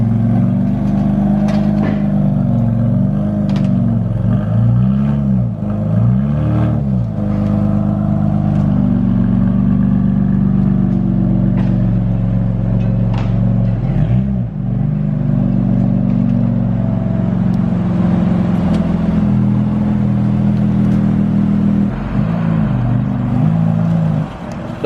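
BMW F80 M3 driving off on a test drive, its engine a steady loud drone with rising and falling revs as it pulls away and shifts, a continuous close rumble throughout.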